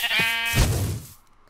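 A single loud, close sheep bleat from Minecraft, wavering and then fading out within about a second.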